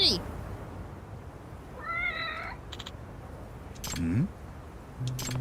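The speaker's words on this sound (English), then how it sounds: "It's the cat, Hakaze-san's taken care of." A cat in the Lost Judgment video game gives a few short, separate meows over quiet background ambience, with brief clicking game sounds in between.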